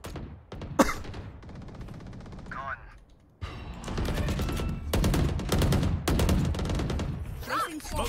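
Repeated gunfire in a tactical shooter video game, loud bursts of shots with a smoke grenade launching, layered under excited team callouts and chatter.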